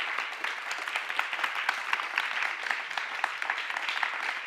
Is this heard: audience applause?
yes